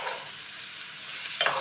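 Tomatoes and bitter gourd curry cook in a pan over low flame, giving a soft, steady sizzle with a brief stirring scrape near the end, close and alone.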